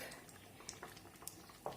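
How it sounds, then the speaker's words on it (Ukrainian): Thick cherry jam boils in a pot, giving faint, close bubbling with scattered small pops and sputters. "просто воно зараз кипить"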